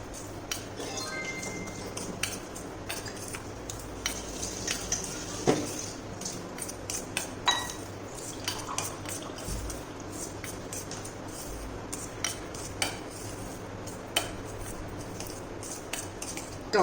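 Fenugreek and raw mango pickle gets stirred in a container, with a spoon clinking and scraping in irregular taps and knocks, close by over a faint room hum.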